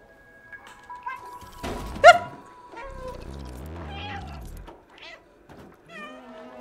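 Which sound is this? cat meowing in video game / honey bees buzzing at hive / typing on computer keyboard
cat meowing in video game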